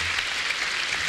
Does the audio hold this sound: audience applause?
yes